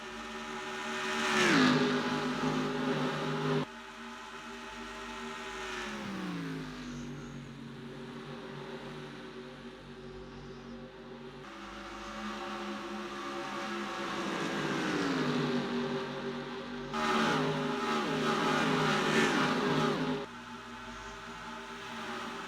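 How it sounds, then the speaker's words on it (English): Stock cars racing at Charlotte in the Craftsman Cup Series, engines roaring past in repeated waves with pitch dropping as each pass fades, a continuous steady drone between them. "Side by side into turn 3, and on lap 62, coming to 63, Carson Gum retakes the lead."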